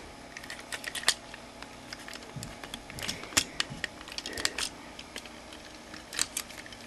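The plastic arms of a Transformers Animated Cybertron Mode Ratchet toy are folded into place, producing a series of small, sharp clicks and ticks, irregular and close, with quiet pauses between them.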